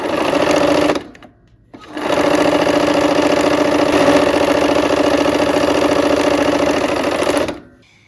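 A sewing machine stitches along a line on a fabric heart, running steadily and loudly for about a second, pausing briefly, then humming on in a long continuous run before stopping.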